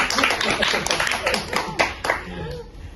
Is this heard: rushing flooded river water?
no